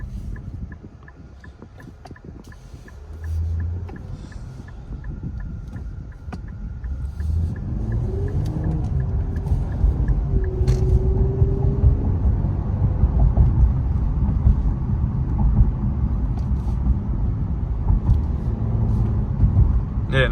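Cabin noise inside a 2021 Infiniti Q60 Red Sport 400 as it pulls away and drives, a low engine drone rising and settling into a steady road rumble, with some faint clicks early on.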